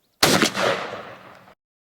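A single loud, close shotgun blast from a Tristar G2 Viper firing a Patternmaster Code Black Turkey .515 load from Salt Creek at a 40-yard pattern target, a sharp crack followed by a decaying outdoor echo lasting about a second.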